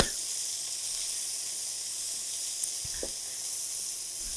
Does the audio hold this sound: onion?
yes